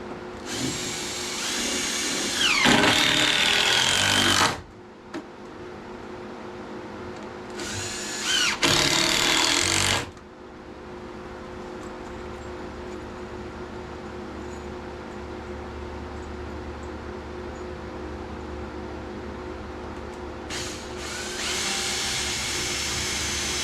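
A power drill drives Torx bit screws in three loud whirring bursts: two close together near the start and a third near the end, separated by a quieter steady background hum.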